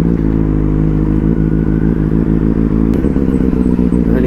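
A Benelli motorcycle being ridden on a road by day: a loud, close, steady engine drone with a constant throb, a brief clatter and a shift in tone near the end.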